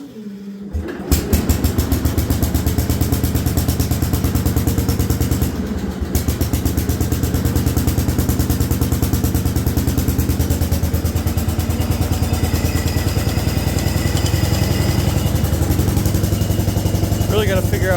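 An Allis Chalmers garden tractor engine cranks and catches, then runs at a loud, steady, throbbing idle with a short dip partway through, while a voice speaks briefly over it.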